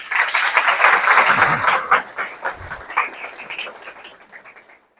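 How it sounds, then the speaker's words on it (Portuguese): Audience at a talk breaking into applause, dense clapping that is loud at first, then thins into scattered claps and fades out over several seconds. "Uma salva de palmas aí para Luiz"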